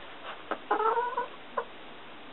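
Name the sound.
barred rock hen clucking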